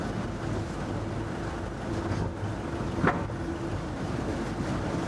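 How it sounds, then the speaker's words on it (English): Big ventilation fans blow exhaust fumes out of a train carriage, making a steady, fairly loud broadband whoosh with a low hum beneath and one brief sharp knock midway. "It's quite loud in here because there are big fans to blow all the exhaust fumes out, of course."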